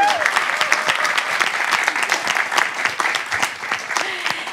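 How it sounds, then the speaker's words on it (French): Dense, sustained applause from an audience, steady and loud throughout with no pauses. "allez-y, applaudissez."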